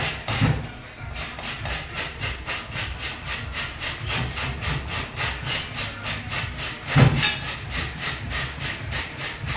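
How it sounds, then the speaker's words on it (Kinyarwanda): Peeled potatoes scraped on a grater in a home kitchen, a fast regular back-and-forth rasping rhythm, close and fairly loud, with a couple of heavier knocks. "Kurapa ibirayi"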